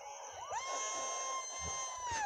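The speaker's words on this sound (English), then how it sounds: "That's my mom screaming at me." A woman at a football game screams in one long, high, sustained cry that rises and then holds. It sounds fairly faint and distant over a steady background hum.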